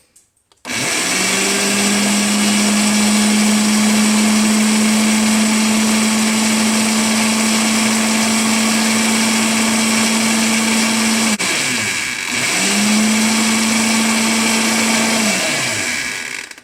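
A blender spins home-grown horseradish root in a loud, steady high-pitched whine lasting about ten seconds, then stops briefly and restarts for a few more seconds before winding down.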